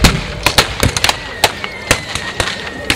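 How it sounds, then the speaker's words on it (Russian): Massed artillery bombardment of German positions at the Battle of Gumbinnen, heard as sharp irregular bangs and pops in quick succession, some near and loud, others fainter, with a possible voice underneath. "вот начинается массированный обстрел германских позиций"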